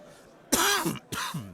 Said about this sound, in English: Sorry, guys, I keep coughing.